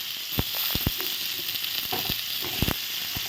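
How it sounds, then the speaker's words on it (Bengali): Potato and sweet potato pieces frying in hot oil for a mixed vegetable dish, a steady close sizzle broken by sharp clicks and taps of a spatula against the pan. "এবার একই তেলে আমি আলুটাও ভেজে নেব আলু আর মিষ্টি আলু ভেজে তুলে নেব"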